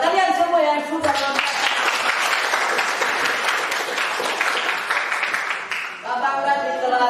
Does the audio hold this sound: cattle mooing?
no